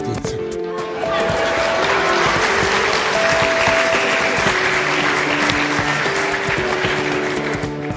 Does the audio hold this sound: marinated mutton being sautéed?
no